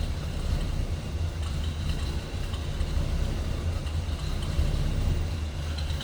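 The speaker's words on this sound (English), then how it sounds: "A little rumble coming out of that 428." A 1967 Pontiac LeMans 2-door hardtop with a 428 V8 idles low and steady, a continuous deep rumble heard up close with no talk.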